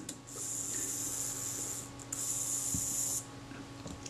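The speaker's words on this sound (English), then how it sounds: "You can hear the self timer running down" A Braun Paxette camera's self-timer gives a steady mechanical whirring buzz for about three seconds with a brief break, then stops abruptly as it winds down.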